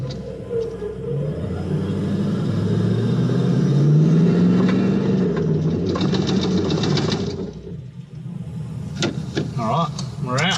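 An off-road car engine rumbles and strains as it drives out during a winch pull, a steady loud drone with rising pitch, then a brief drop and a few sharp mechanical noises near the end.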